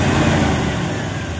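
A car engine runs steadily with a newly installed clutch fan slipping, giving a loud, constant roar and whoosh with no change in pitch and no voices.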